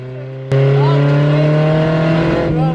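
A stock Toyota RAV4 on a dirt rally sprint stage roars in close from the cabin, the engine snapping from quiet to a loud, sustained high-revving drone that holds for a couple of seconds, with a short voice in the background.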